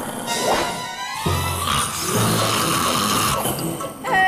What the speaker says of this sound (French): Dame Fedora ronfle comme un sanglier.